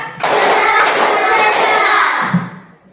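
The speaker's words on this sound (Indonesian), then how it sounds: "Tepuk mesin cerdas." Children in a classroom perform a rhythmic group clapping ice-breaker, a dense burst of many hands clapping together for about two seconds, close and loud, with voices mixed in.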